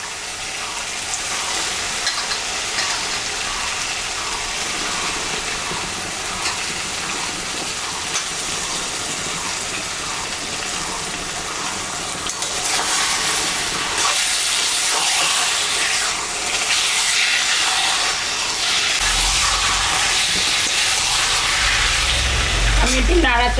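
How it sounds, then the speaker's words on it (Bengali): Mutton pieces frying in a spice masala for a slow-cooked mutton kosha, a steady dense sizzle and hiss running throughout, growing brighter and louder in the second half with stirring, close and continuous. "মশলাটা হয়ে গেছে, আমি এখন মাংসটা দিয়ে দিব।"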